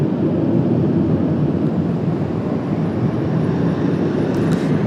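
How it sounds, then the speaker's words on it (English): A United Boeing 737 departing Washington Dulles on a cloudy day gives a sustained low jet roar, steady and fairly loud, with no talking over it. "Nice departure for United. 737"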